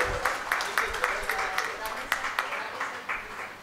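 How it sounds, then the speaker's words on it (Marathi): Applause from an audience at a Marathi book launch ceremony, a dense steady patter of many hands clapping throughout, fairly close. "एकदा चारी मॅडमसाठी जोरदार टाळ्या होऊन जाऊ देत."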